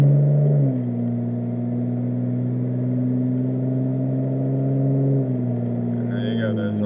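A 2007 Hyundai Tiburon GT with a 4-speed automatic accelerates through its gears, a steady engine drone whose pitch drops at each upshift, heard from inside the cabin with a faint chirp near the end.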